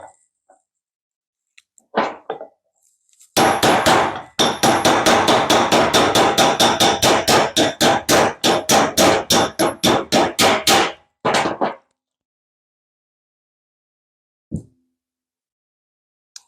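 Rapid, loud hammer blows drive a part to the correct depth during a bike wheel assembly, a few scattered strikes followed by a long fast burst of about thirty sharp impacts, then a couple of isolated knocks.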